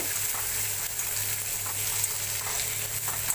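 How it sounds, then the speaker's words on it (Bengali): Chopped tomatoes frying and being mixed into crab curry, a loud steady sizzle and crackle of oil with faint stirring strokes running throughout. "টমেটো কুচিগুলো এর সঙ্গে ভালো করে মিক্স করে নেব।"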